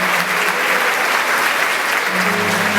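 A church congregation applauds a couple, a loud, dense and continuous clapping that fills the room evenly from start to finish.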